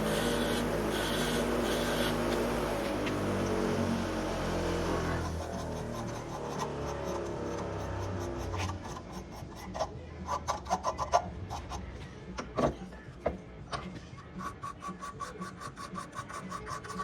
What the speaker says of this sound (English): We're just gonna lightly take a triangle file to it.